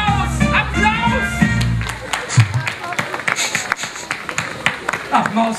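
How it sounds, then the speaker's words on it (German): Children's audience at a live WDR Duisburg show applauding the arrival of the Maus, a dense wash of clapping and crowd noise with some shouting, mixed with low music and voices throughout. "Applaus."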